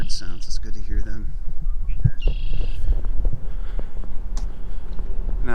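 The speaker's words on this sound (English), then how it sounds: "Birds on the marsh grass is kind of cool. I love those bird sounds." Birds call from marsh grass at a nature preserve in De Pere in late March, with a few high chirps and trills near the start set against steady outdoor noise and faint rustling.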